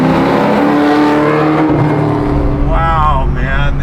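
A custom 1971 Camaro restomod with an LSX engine making 600 wheel horsepower accelerates, its loud engine note rising and shifting continuously and close up, with no talking.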